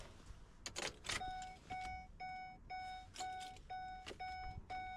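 A Ford E350 van with no ignition gives off a steady series of evenly spaced electronic chimes, about ten clear beeps, heard close and moderately loud over faint clicks and handling noises.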